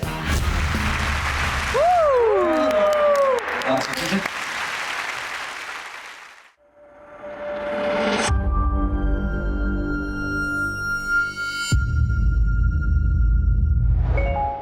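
An audience applauds a singer as she takes the stage of a televised music show: bursts of broad clapping alternate with swooping electronic tones and loud stage music, with voices briefly mixed in.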